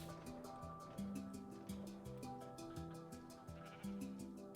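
Sheep in the game Minecraft bleating in a few short, repeated calls over steady background game music, with no talking.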